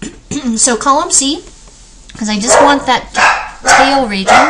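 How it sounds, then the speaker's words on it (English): Dogs bark and yip loudly in bursts indoors, overlapping someone talking close to the microphone. "Sorry about my dogs there."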